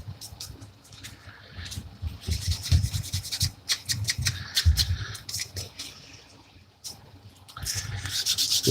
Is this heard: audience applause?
no